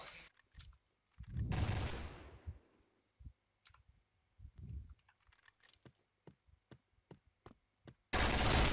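Gunfire in a shooting video game: bursts of rapid shots and single sharp cracks, mixed with close, quick keyboard and mouse clicks, with loud blasts at the start, middle and end.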